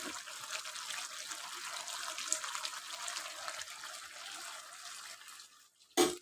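A little water poured into a pan of pumpkin and potato curry, a steady close pour with trickling hiss for about five seconds, then a sharp clank near the end.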